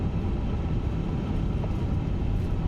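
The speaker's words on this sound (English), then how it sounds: "So we're taxiing all the way here." An Airbus A350-900 taxiing at Ho Chi Minh City in a flight simulator, heard as a steady, low, muffled engine rumble that stays even and unbroken throughout.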